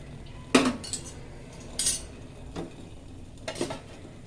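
A utensil scrapes and clinks against a pot in a few separate strokes, stirring varagu (kodo millet) rice over a soft bubbling boil, close and moderately quiet.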